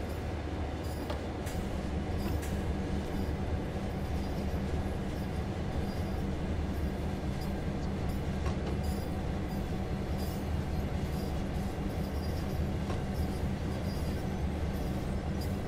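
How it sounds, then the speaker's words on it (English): An EMD F7 diesel locomotive on the Clinchfield Railroad in a train simulator game, heard as a loud, steady diesel drone with rhythmic rail clatter as it passes, continuous throughout. "there's the other train, and it is an F7"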